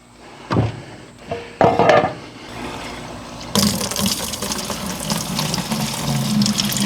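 Gasoline pouring out of the tank of a Honda Shadow 1100 motorcycle that had sat for years, a few handling knocks first, then a sudden steady gush of liquid splashing into a container, loud and continuous.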